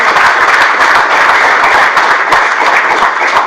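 A seated audience applauds at a public talk on how an anti-corruption bureau works, a loud, dense wash of many hands clapping steadily and continuously throughout, with no voices over it.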